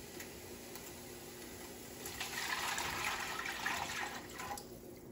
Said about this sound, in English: you're gonna add in your stock.